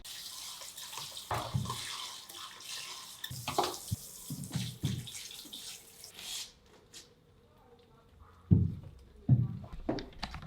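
Tap water runs into a sink while hair dye tools are rinsed, a steady close splashing with clunks and handling noises throughout and a few louder knocks near the end.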